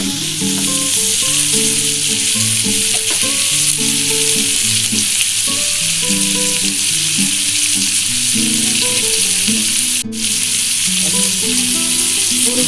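Vegetables sizzle steadily in hot oil with turmeric for vegetarian fried rice, a loud, close, continuous frying hiss with music playing underneath.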